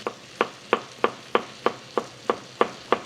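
Chopped scallions being tossed into a pan of spicy Korean stir-fried pork, with a steady run of evenly spaced, sharp scraping strokes, about three per second, close and clear with no voices.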